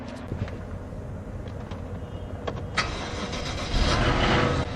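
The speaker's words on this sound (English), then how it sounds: "now it's time to start the engine" A BMW 750i F01 car with N63 engine cranks briefly and catches, then settles into a steady running rumble nearby.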